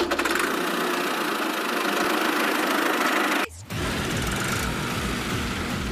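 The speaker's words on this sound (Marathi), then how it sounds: "हे चालू केला ट्रॅक्टर तुम्ही" A tractor engine idles in neutral with a steady, loud mechanical rumble, briefly dropping out for a moment before settling back into an even, continuous drone.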